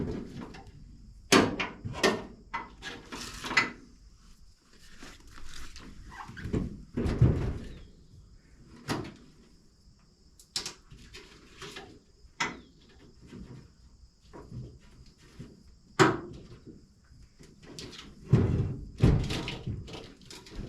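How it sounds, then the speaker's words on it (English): Battery being installed in a 1958 Chevrolet Delray, heard as scattered metallic clunks, thuds and knocks of parts and tools being handled nearby, irregular with quiet gaps between. "we're gonna go ahead and get a battery in this thing"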